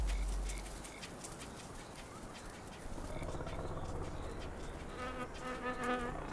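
A wasp buzzes steadily and close in the wild, ground swarming with ants nearby, the drone continuous throughout with faint ticking and rustling under it.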